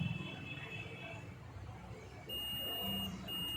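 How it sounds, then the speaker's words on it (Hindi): A multimeter's continuity buzzer sounds while probes test a fuse on a CCTV SMPS power supply board, a thin high-pitched tone that starts partway through and holds steady, with faint background noise earlier. "ये देखिए ये आपको बजर साउंड आ रहा है फ्यूज़ का"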